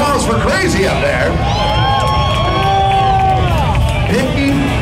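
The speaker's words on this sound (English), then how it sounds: "Ladies and gentlemen, round of applause for Crazy up there." A crowd cheers and whoops at a live wrestling event, a loud continuous roar of voices with scattered shouts and some clapping mixed in.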